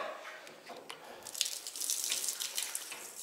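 Water runs from a tap in a pig barn's pen area, a steady soft hiss and splash that swells slightly after the first second, heard close with no talking.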